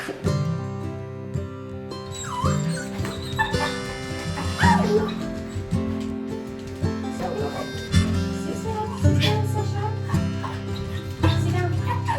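Eager dogs whining, yipping and giving the odd bark in a countryside home, the high whimpers repeating excitedly over background music.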